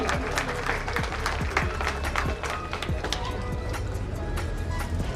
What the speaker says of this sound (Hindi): जोरदार तालियां बजा करके जोरदार तालियां।